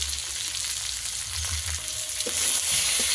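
Turmeric and chili powder being sautéed in a pan, a dense steady frying hiss with a couple of faint utensil taps, close and fairly loud.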